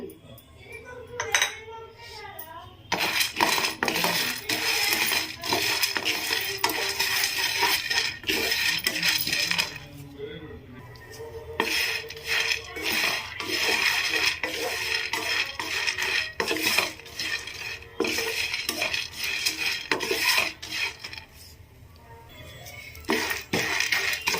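Pumpkin seeds roast in a pan, bringing repeated small clinks and scraping rattles as they are stirred and tossed, busy and close with a few brief quieter gaps.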